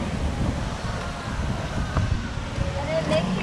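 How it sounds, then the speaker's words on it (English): Wind buffeting the microphone while kayaking, a steady rough rumble throughout with faint water and distant background sounds. "Fight against the wind."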